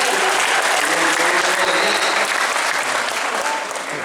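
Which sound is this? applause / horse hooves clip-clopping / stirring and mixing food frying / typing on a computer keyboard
applause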